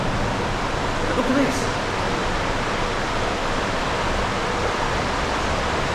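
River water rushing steadily through a culvert beneath a road, a broad constant roar with no breaks; a voice speaks briefly over it.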